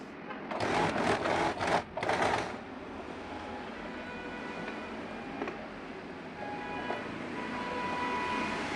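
A sewing machine stitches a folded half-inch slit on a partywear skirt, several quick close bursts of rapid mechanical whirring at the start, followed by a quiet room hum with faint tapping.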